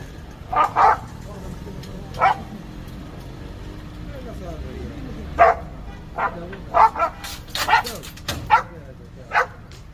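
Stray dog on a street barking while being caught by a collection crew, sharp repeated barks and yelps in uneven bursts, fairly close, with voices talking and a bit of traffic in the background.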